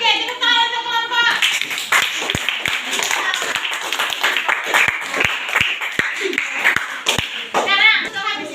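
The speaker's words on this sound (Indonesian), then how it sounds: "Oke, tepuk tangan untuk kelompok." A school class claps for a group, giving sharp irregular hand claps and thumps mixed with children talking and shouting nearby, with a brief chatter of voices at the start and end.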